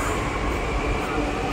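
Delhi metro train pulling out of a station, a loud continuous rumble of wheels and carriages close by, steady throughout with faint background voices.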